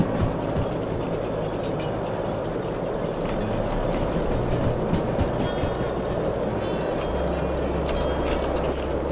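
A steam train in a video game rolls steadily and keeps picking up speed, with a continuous loud rumble, low engine drone and rhythmic clicking of wheels and couplings throughout.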